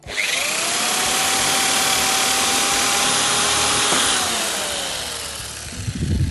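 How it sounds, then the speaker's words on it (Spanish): A power drill with a wood bit whirs steadily for several seconds as it bores corner holes through a wooden countertop, its motor pitch sagging slightly under load before winding down. "Con el taladro y una broca de madera, hacer unas perforaciones en las esquinas"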